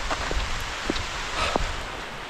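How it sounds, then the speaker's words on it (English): Heavy rain falls with large raindrops and hailstones during a hike across North Yorkshire, a dense steady patter broken by a few sharper close impacts. "I am quite enjoying the madness of how big these raindrops are and the fact that it's got hailstones in it."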